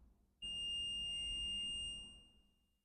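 A multimeter gives its continuity beep as its probes touch a fuse on a MacBook Pro 16-inch A2141 logic board, one steady high tone lasting about a second and a half, loud and close, with no talking.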